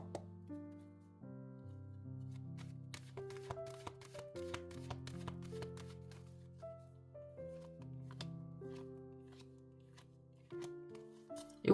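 Tarot cards riffled and flicked during a weekly tarot reading: quick papery shuffles and soft snaps, fairly close, running under steady soft background music with no talking.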